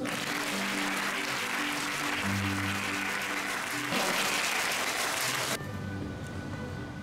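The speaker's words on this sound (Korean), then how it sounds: "박수 한번 주세요" Audience of military academy cadets applauding, sustained even clapping over a low background hum, dropping to a quieter tail near the end.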